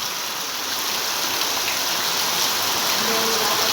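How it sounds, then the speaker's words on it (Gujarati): Heavy monsoon rain pours steadily in Surai village, Chotila taluka, Surendranagar district, Gujarat, a dense, loud, unbroken hiss of water striking surfaces that continues throughout with no break. "જો જોરદાર આજ વરસાદ"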